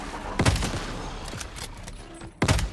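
Gunfire in the online survival shooter Once Human: loud broadband blasts with heavy thumps, one burst near the start and another near the end, separated by a lull of quieter game noise.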